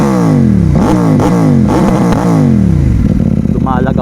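A CFMoto 800MT touring motorcycle with a 799cc engine revs hard several times in a row, each loud rising-and-falling vroom close by, with a steady idle between blips and no talk over it.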